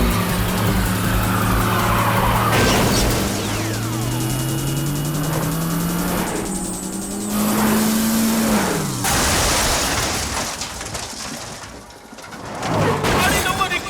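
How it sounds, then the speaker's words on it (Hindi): A race car in a movie race roars past with its engine pitch climbing steadily, then a sudden broadband crash of impact and debris hits as the tone drops away, with voices talking over parts of it. "गाड़ी नंबर 21 शायद हादसे का शिकार हो गई है।"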